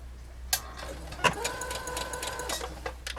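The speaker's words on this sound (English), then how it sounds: "So let's go to the straight stitch sewing machine now and get this sewn up." A straight stitch sewing machine runs a short burst of about a second, reinforcing the edges of shirt fabric under the presser foot, with a couple of sharp clicks just before it starts.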